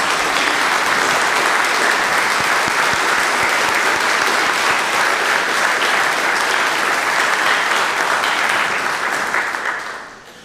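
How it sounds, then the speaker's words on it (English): A congregation at a Sunday morning worship service gives a loud, sustained round of applause that fills the room evenly for about ten seconds before quickly fading out. "let's give them a quick round of applause."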